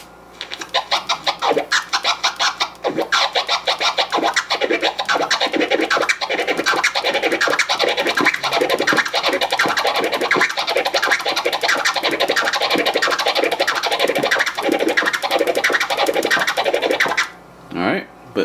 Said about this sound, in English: the Kermit is two chirps followed by a flare that's twice as long